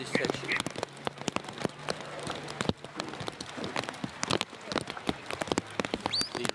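Rain falls outdoors at a sheepdog trial, a steady pattering of drops with scattered sharper taps on nearby surfaces, continuous throughout under faint background sound.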